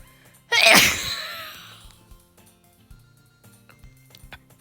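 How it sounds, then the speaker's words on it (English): One loud, sharp sneeze bursts out close to the microphone, then trails off into quiet room tone with faint clicks and a low hum. "Oh my god, I have to sneeze so bad."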